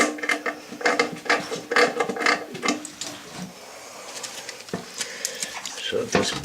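Toilet flange bolts being tightened and snapped off, heard as close, busy ratcheting and metallic clicking bursts, then a pause and a few more sharp clicks.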